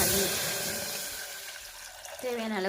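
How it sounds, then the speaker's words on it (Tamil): Water being poured into a pot for cooking moong dal lentils in a home kitchen, a steady splashing stream that tapers off, followed by a person speaking. "தண்ணி ஊற்றிக்கோங்க."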